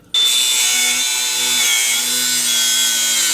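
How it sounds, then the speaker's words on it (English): Saw or cutting tool slicing through the brake line on a Mercedes W126 during rear spring and shock removal, a loud continuous grinding buzz that starts abruptly and runs steadily throughout, close up with no talking. "I'm doing the easy thing and cutting the brake line."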